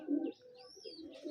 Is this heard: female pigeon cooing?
yes